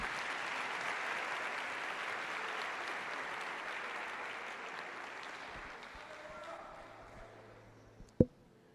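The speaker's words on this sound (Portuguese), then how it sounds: "Vamos dar a Jesus uma linda salva de palmas." Congregation applauding for Jesus during an evangelical church service, a steady broad wash of clapping that slowly thins and fades toward the end, closing with a single sharp knock.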